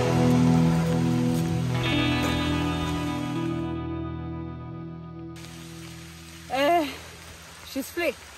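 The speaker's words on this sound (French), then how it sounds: "Il pleut toujours." Steady rain hisses across the whole recording, briefly dropping out midway, with a few short vocal sounds near the end.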